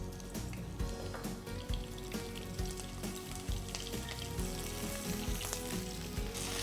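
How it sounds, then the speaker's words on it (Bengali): Carrots, beans, cauliflower and potatoes fry in spices for Bengali khichuri, a close, busy sizzle broken by repeated clattering stirs and scrapes, no talking. "সবজিগুলো সুন্দর ভাজা ভাজা হয়ে গিয়েছে।"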